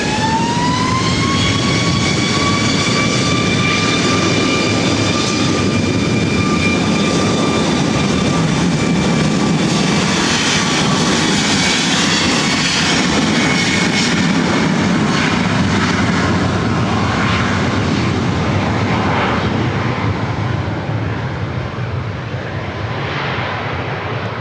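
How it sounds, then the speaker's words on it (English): A Southwest Airlines Boeing 737 MAX 8 takes off from LAX runway 24 right, its jet engines roaring loud and sustained with a rising whine that slowly fades as it climbs away. "This is Southwest Airlines 2551, taking off to Honolulu on a MAX 8."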